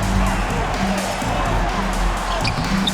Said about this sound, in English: they've given their fans plenty to cheer about, that's for sure